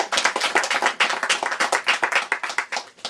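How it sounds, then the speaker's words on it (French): A wedding congregation in church claps in a fast, steady rhythm, many hands striking sharply and clearly close by with no talk over it. "Acclamez le Seigneur pour eux"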